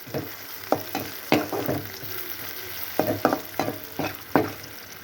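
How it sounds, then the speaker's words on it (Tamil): Chopped onions sautéing in a pan for a quick egg podi masala, with a spatula scraping and stirring in irregular bursts over a steady low sizzle, close and with no talking. "கொஞ்சம் வதங்கட்டும் வெங்காயம் நல்லா வதங்கட்டும்"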